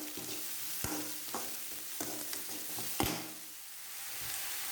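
Chopped onion sautés in a pan as a spoon or spatula stirs it, soft sizzling under several distinct scraping strokes, with no talking.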